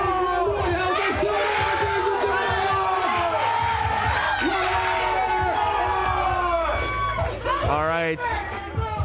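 Crowd cheering and whooping for a 105 kg powerlifter on a final 195 kg attempt at a state championship, a loud sustained roar with shouts filling the clip, voices mixed throughout.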